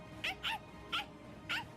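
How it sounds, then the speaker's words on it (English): A dog in the Bleach: Rebirth of Souls video game letting out four short, high, whiny yelps in an uneven rhythm, close and fairly clear over a low background hum. "That's Yami's dog."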